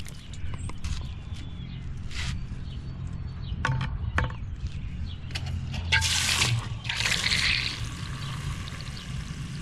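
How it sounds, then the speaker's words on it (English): Water from a garden hose splashes and pours into a container holding ordinary dish soap outdoors, an uneven gushing with bursts of louder spray and a few footsteps, close and moderately loud. "just put a bunch of water in there."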